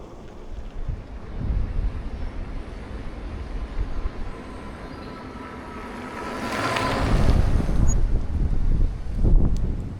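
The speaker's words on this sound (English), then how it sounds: "It's getting very windy now" Strong wind roars across the microphone while an ebike, a SAMEBIKE RS-A02 Pro, coasts down a long hill, the buffeting rising and falling and growing louder toward the end.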